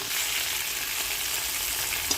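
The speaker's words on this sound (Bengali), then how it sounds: "স্টিম দিয়ে নিয়ে এবার এটাকে আমি তেলে ভাজছি" Steamed vegetables frying in oil in a pan for a home-cooked lunch, giving a steady, loud, close sizzle with a dense hiss that holds evenly throughout and never lets up.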